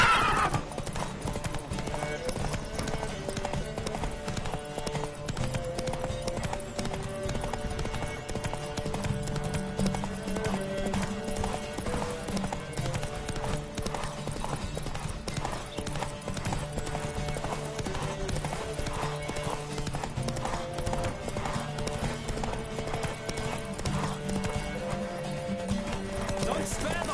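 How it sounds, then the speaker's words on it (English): Horses gallop in The Witcher 3: Wild Hunt during a race, rapid rhythmic hoofbeats with a neigh, over game music and a character's voice. "Don't spare the horse!"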